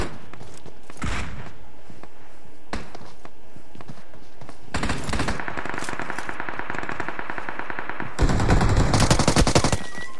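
Video game gunfire with rapid machine-gun bursts and single shots, starting sparse, building into a sustained volley, then ending in a loud final burst.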